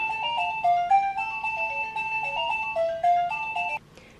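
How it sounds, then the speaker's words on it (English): Lullaby-like electronic melody chiming from a wireless wifi video doorbell, a bright music-box tune of steady sustained notes playing alone for about four seconds before cutting off. "Very different doorbell sound than your standard one. Sounds a bit like a lullaby, you know."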